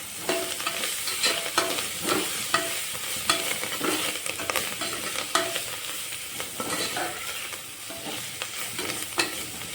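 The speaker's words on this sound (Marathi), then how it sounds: "मी कोथिंबीर आणि पुदिना धुवून बारीक चिरून घेतलं आहे, ती पण ॲड करते आतमध्ये. आणि ते पण जरा परतून घेते." Finely chopped fresh coriander and mint are sautéed in hot oil for a vegetable biryani, giving a steady close sizzle with rhythmic spatula scrapes and taps against the pan.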